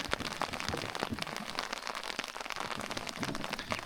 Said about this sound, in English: So it's still raining, and we're just cruising down the river.